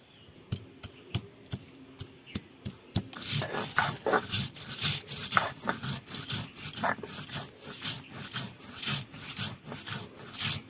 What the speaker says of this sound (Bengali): কষা জিরা আর আদা একসঙ্গে বেটে নেব